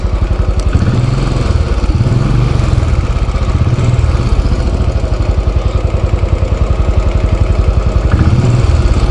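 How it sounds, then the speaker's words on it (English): A Royal Enfield Classic 500 motorcycle engine idles close by with a low, slow, steady thumping beat that holds even throughout, with no talk. "It's a really low revving bike."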